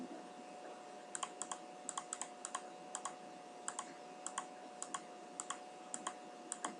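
Keys tapped on a computer keyboard while entering values in SolidWorks CAD software: quiet, irregular clicks in short bursts of two or three strokes, heard close and alone over a faint steady hum.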